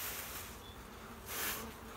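Honey bees hum around an open hive during a hive split inspection, a steady faint buzzing that swells briefly as a bee passes close, with no talk.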